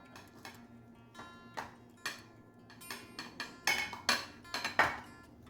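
Cooked potatoes are mashed in a bowl, with a series of irregular clinks and taps from the utensil against the bowl that grow louder and quicker toward the end.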